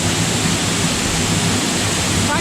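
A misty waterfall roars as a steady, loud broadband rush of falling water, constant with no breaks throughout.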